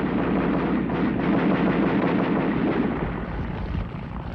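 World War I anti-aircraft ground fire, heard as a dense, continuous rumble of distant booming guns and explosions, loud and unbroken throughout, with no voices.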